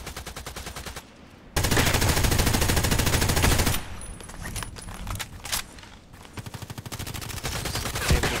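An M4A1 Custom rifle in the shooter game Contract Wars fires rapid automatic bursts, loud and close, with a sustained stretch of continuous fire and shorter bursts separated by brief pauses.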